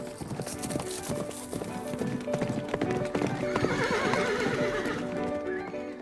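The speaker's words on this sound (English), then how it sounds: "Look at the way she's leading these horses around us." Horses led around at close range, hooves clip-clopping in a steady rhythm, with a horse neighing and whinnying over the top and voices talking in the background.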